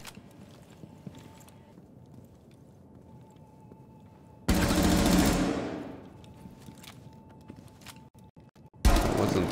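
Video game gunfire, tap or single fire: a quiet stretch, then a sudden loud burst with a decaying tail midway, a few sharp isolated shots, and another loud blast right at the end. No talking.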